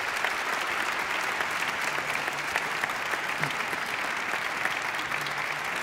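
Sustained applause from a seated audience welcoming a guest at a gathering, many hands clapping in a thick, constant wash that holds at an even level throughout.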